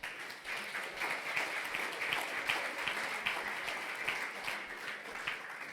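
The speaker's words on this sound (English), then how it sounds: "So please give him a big applause." A small audience at a tech meetup gives steady, continuous applause, quite faint and distant, with many overlapping claps blending into an even patter.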